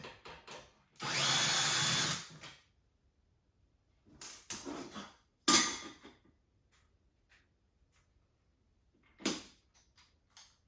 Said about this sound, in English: these Bosch brushless drivers are so awesome